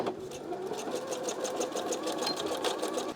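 A sewing machine runs a zigzag stitch over elastic with rapid, steady, close mechanical ticking, continuous and fairly loud, with no speech.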